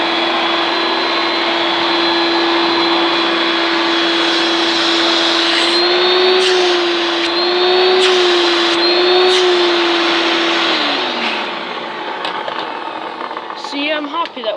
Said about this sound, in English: I'll switch it on for you first. The activator sounds a wee bit rough still